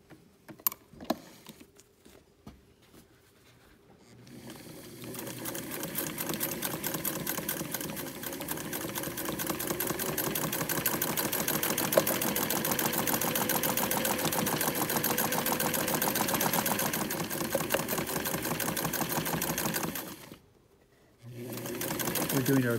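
A sewing machine stitches a seam on a handmade doll, whirring steadily for about fifteen seconds before it stops briefly and starts again. A few clicks come first, and there is no talking over the run.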